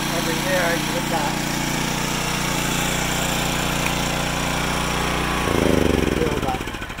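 A small gas generator engine is already running after a pull start, with a loud, steady, rapid mechanical chugging throughout. The pitch and loudness rise briefly near the end, then ease off.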